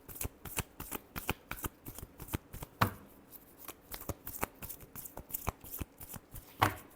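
Tarot cards shuffled by hand up close, a quick series of crisp riffling slaps and flicks in an irregular rhythm, fairly quiet, with a couple of louder bumps.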